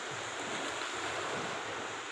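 Seaside waves wash in under gusty wind on a drizzly day at an almost empty beach, a soft steady surf roar with wind buffeting the microphone.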